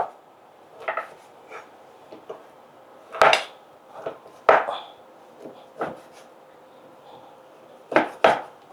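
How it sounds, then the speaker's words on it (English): A knife cuts cassava into chewable pieces on a board: sparse, irregular knocks and clacks, some sharp and louder, separated by quiet pauses, heard up close with no talk. "we need to cut the cassava into chewable pieces"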